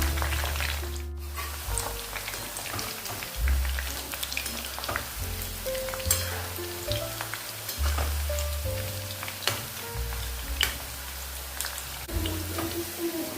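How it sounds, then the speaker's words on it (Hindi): Cauliflower florets frying in hot oil for a dhaba-style gobi aloo fry, a steady close sizzle and crackle with scattered pops, running continuously over a low background hum. "हल्का भूरा होने तक इसको तलेंगे, थोड़ा सा कलर आने तक।"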